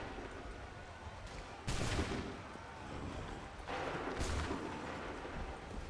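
Musket volleys in Assassin's Creed 3 crackle as two loud bursts of gunfire over a dense battlefield roar, with faint talk underneath.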